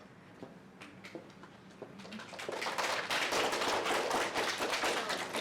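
Audience applause at a school district spelling bee, starting as a few scattered claps and quickly swelling into steady, fairly loud clapping from a crowd that continues to the end.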